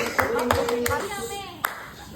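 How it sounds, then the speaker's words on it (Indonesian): Brief applause from an audience at an evening farewell gathering where people share impressions and messages, with a few scattered claps over about two seconds and some voices in the background. "tepuk"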